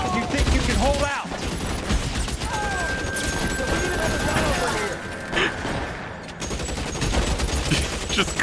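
Gunfire crackles in LA Noire's close-range shootout, with rapid, loud volleys sounding almost without pause beneath talk, broken by a brief lull in the middle.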